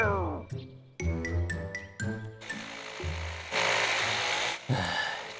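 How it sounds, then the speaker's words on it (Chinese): A saw cutting wood in an animated cartoon makes a harsh, buzzing rasp that comes in loud bursts, set between stretches of cartoon voices talking and musical tones. "锯子声这么大"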